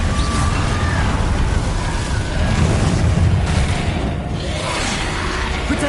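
A Confringo blasting spell explodes in the game Hogwarts Legacy, a loud, sustained rumbling boom and roaring burst that fills the whole stretch with dense low-end blast noise and whooshes, no talk.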